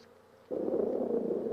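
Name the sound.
honey bees buzzing at the hive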